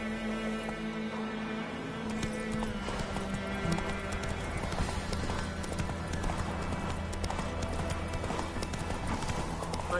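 Horse hooves gallop in a PS4 video game, a continuous rhythmic clip-clop with an occasional whinny over steady game background sound.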